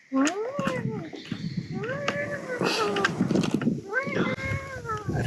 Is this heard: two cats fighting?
yes